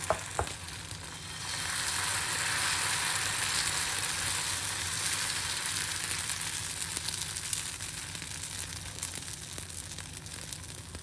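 Bhagar (barnyard millet) dosa batter sizzling and frying in oil on a hot pan, a steady dense crackle that starts softly and holds for several seconds, close up with no talking.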